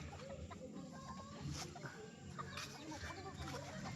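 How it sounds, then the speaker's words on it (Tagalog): Chicken clucking at low volume amid outdoor background noise, short scattered clucks heard faintly. "Ang bilis tumakbo ng manok."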